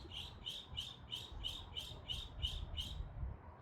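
Birds chirping in a quick, evenly spaced series of bright, repeated calls over a low background rumble, clear and fairly close, with no voices.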